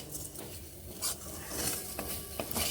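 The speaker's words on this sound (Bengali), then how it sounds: "এই চালগুলোকে এভাবে মিশিয়ে নিচ্ছি" Fried Gobindobhog rice is stirred into spices in a pan, giving soft scraping and light clinks of a utensil over a faint sizzle, close and continuous with no talking.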